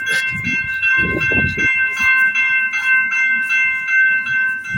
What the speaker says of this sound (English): Here you got to be careful, Because we got the train.